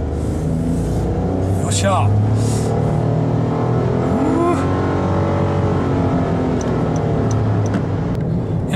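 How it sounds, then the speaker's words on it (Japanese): A Honda N-BOX kei car accelerates hard at full throttle, its engine droning and rising steadily from inside the cabin. Someone talks over the engine noise. "急加速しました。"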